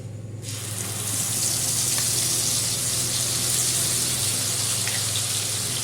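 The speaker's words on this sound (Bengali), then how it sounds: "ওই তেলটার মধ্যেই আমি দিচ্ছি গোটা জিরে ফোড়ন তারপরে এই পেস্টটা এটার মধ্যে আমি দিয়ে দিচ্ছি" Whole cumin seeds and a spice paste sizzle and hiss steadily in hot oil left from frying paneer, starting with a sharp burst as they hit the pan, then a loud, continuous frying crackle close by.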